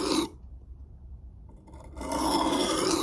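A knife is sharpened on a whetstone, giving a close, gritty rasping stroke, then a near-silent pause, then a longer, steadier scraping stroke.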